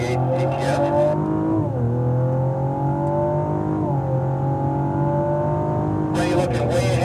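A 2016 Cadillac ATS-V engine pulls hard from low RPM down the front straight at Circuit of the Americas, a steady loud in-car drone rising in pitch, with two brief pitch dips like upshifts and a voice talking over it.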